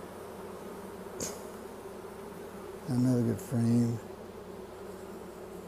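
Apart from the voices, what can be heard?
buzzing honey bees in a hive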